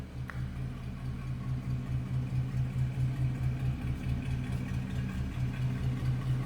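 A 1939 LaSalle Series 50 coupe idles with its engine running, a steady, even low rumble with a gentle rhythmic pulse, close by and with no voices over it.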